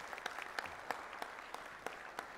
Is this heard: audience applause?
yes